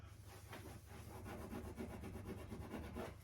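Scrubbing while cleaning a single-wide mobile home gives a close, steady back-and-forth rubbing rhythm, fairly faint, with no voices.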